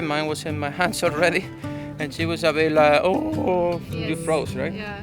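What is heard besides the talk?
No everyday noise stands out behind the speech.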